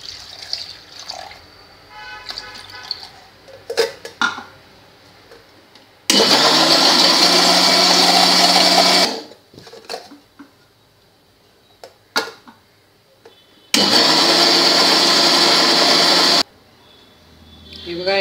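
Mixer grinder churning cream with added water into butter, two loud sustained runs of about three seconds each, separated by quieter kitchen clatter and talking.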